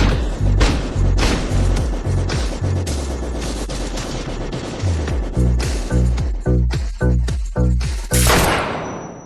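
Sustained gunfire in an action film, with rapid bursts and heavy booming shots overlapping in loud, dense volleys that pulse irregularly throughout, ending in a sharp high crack.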